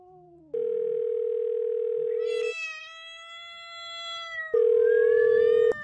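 An outgoing phone call to a pastor late at night gives two long, steady ringback tones, close and loud, with a wavering, meow-like cry in the gap between them.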